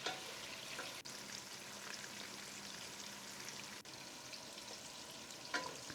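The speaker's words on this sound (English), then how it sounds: "Fry them for only about a minute in the oil" Prawns shallow fry in hot oil with a steady, dense crackling sizzle like light rain, quiet and continuous, with a couple of soft knocks and no voices.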